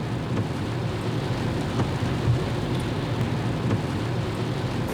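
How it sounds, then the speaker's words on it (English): Steady rain drumming on an electric car, heard from inside the cabin as a dense, even hiss and patter with a low rumble beneath, no engine noise and no talk. "I could hear the rain, actually."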